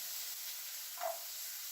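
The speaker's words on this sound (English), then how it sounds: "Okay, that's sizzling." Peppers sizzle steadily in a hot frying pan, a constant crackling hiss with a brief louder scrape partway through.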